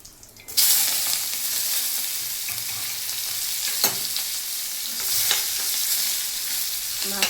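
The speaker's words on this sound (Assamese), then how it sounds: "এতিয়া মই কচু চম্ভাৰ মাৰিম" Taro hits a hot pan of cumin, onion and garlic with a sudden loud sizzle, then keeps frying steadily while being stirred, with a few scraping spatula strokes.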